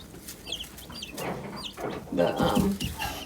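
Chicks and adult chickens under a heat lamp by a nesting box, clucking and cheeping close by in a busy, overlapping chorus with no talk.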